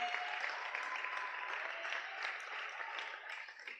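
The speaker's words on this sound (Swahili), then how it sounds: "Tusimame tumpigie makofi." An audience at a youth talk show applauds to welcome Madam Sophie, a steady wash of clapping heard from a distance and fairly faint, with no talk over it.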